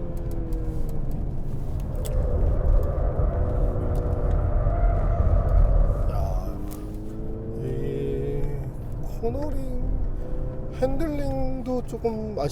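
Mercedes-Benz GLC 300 4MATIC SUV cornering hard with understeer, a steady engine rumble rising and falling with rising tonal tire squeal toward the end, close and fairly loud.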